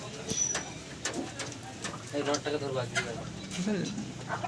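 Madrasi pigeons in a loft, soft rolling coos and wing flutters among several birds nearby, with someone talking over them.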